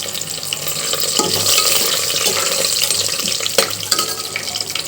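Bay leaves frying in oil in a pan while making biryani, a steady broadband sizzle with stirring and scraping clatter running throughout, close and moderately loud, with no talking.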